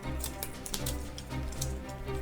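A deck of Dragon Ball Super game cards being shuffled up close, rapid papery flicks and riffles in quick irregular bursts, steady and moderately quiet with no talk.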